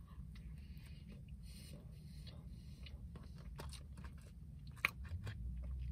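Someone bites into and chews a Haggen cinnamon roll from Lake Stevens, with quiet, close crunches and soft chewing and one sharper bite standing out.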